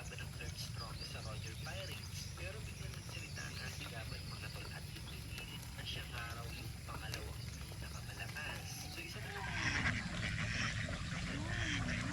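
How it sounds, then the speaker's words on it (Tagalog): Domestic ducks quacking around a rural farm pen, a steady chorus of calls under ongoing outdoor chatter and background noise, growing slightly louder near the end. "bali nandun po yung ibang mga itik po natin oh"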